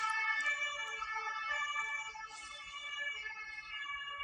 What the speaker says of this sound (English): Gosh, there's so many sirens this morning.